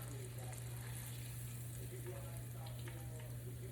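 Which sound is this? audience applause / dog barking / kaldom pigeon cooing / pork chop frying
pork chop frying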